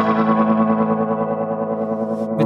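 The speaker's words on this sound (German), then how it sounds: "Jetzt nehme ich nochmal einen Modulationseffekt, hier einen G4 Rotary Sound." Guitar through a VOX Valvetronix VT20+/VT40+ amp with the G4 Rotary modulation effect: a sustained, distorted chord with a swirling, wavering shimmer, loud and alone, ending in a brief noisy click.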